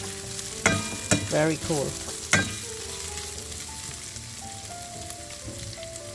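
Onion hits a smoking-hot pan for a chicken stir fry, giving a steady frying sizzle with a few sharp crackles early on, while a voice speaks briefly over it.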